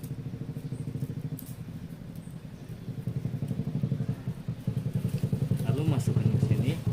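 A motorcycle going by outside while someone works on a handmade plate, its low throbbing engine rumble steady at first, then swelling louder and more pulsing as it draws near.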